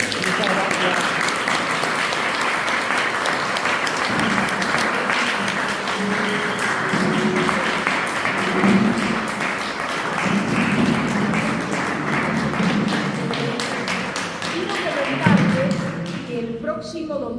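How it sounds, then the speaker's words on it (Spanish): An audience claps continuously after a lecture in a conference hall, a dense sustained applause with a brief voice near the end. "la despedimos con otro aplauso"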